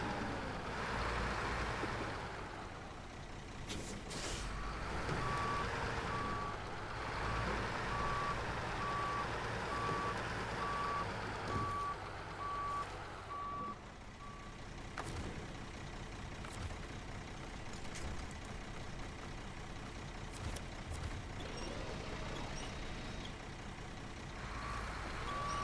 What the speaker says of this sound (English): We're just driving through the jungle.